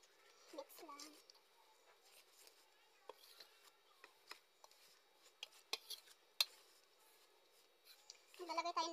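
A spoon scrapes and taps faintly in a bowl of veggie ball batter made of squash, carrots, malunggay and baking powder, in quiet, irregular strokes under low speech.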